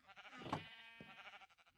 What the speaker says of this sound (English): See if our sheep farm is doing good here.